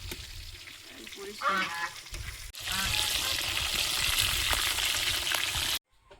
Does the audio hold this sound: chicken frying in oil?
yes